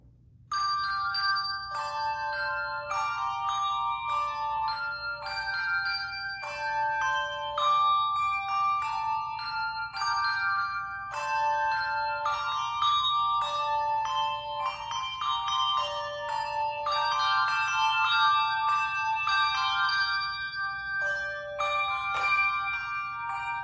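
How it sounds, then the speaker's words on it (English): A small quartet of handbells played by a church choir rings out in a steady, melodic sequence of bright, overlapping chimes, close and clear throughout, with no talking. "we hope you like our small quartet of bells"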